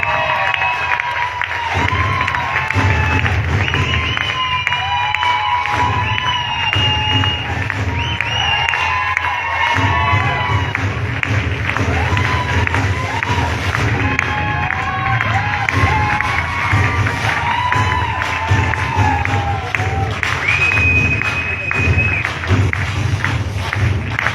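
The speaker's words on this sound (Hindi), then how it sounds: "जोरदार तालियों से स्वागत करेंगे" A seminar audience cheers and applauds loudly to welcome a director, with shouts and whoops rising over steady clapping that runs the full length, and no voice speaking over it.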